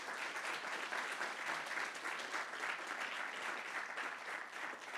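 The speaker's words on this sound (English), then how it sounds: "I think we owe all of these institutions as well as funders a big round of applause as well." Sustained audience applause fills a hall at the Keck Observatory thirtieth anniversary science meeting, a dense, steady wash of clapping from a large crowd that holds an even level throughout.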